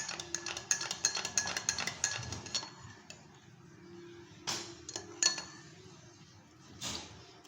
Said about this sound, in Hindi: ये मैं आपको दूध के अंदर डाल के दिखाती हूँ